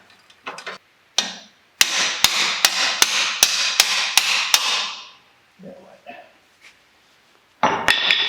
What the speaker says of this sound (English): Sometimes a few love taps with the hammer is exactly what the doctor ordered.